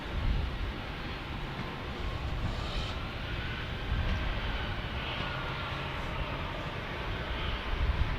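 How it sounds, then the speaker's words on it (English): Boeing 737-700 airliner at San Diego airport, its engines a steady broadband roar that holds level throughout, swelling slightly near the end, with no voices. "This is going to San Francisco on a 737-700."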